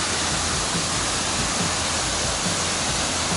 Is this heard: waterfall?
yes